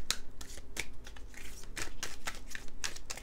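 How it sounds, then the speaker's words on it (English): Cards from a tarot deck are shuffled and drawn, giving quick close riffling bursts and soft papery flicks in an irregular rhythm with no talking. "Let's draw 2 more cards from this same deck"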